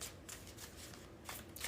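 Tarot cards being shuffled by hand, quiet close riffling with several quick bursts of card flutter in succession.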